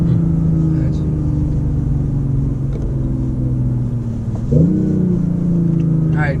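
A BMW i8 supercar rumbles from inside the cabin, then briefly rises in a quick rev as it downshifts before settling back to a steady drone.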